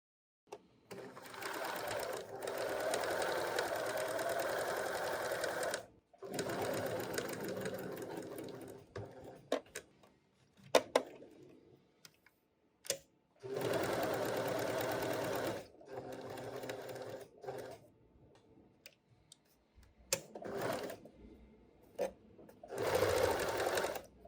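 A sewing machine topstitching near the edge of a dress panel, running in long steady bursts of rapid mechanical stitching separated by pauses with small clicks and handling noises, close and clear.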